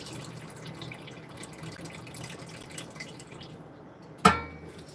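Water trickles and drips gently as potatoes are rinsed off in a kitchen, then a single sharp clink of glass or dish sounds near the end.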